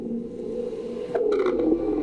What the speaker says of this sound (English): The sounds were created from the ground vibrations as InSight detected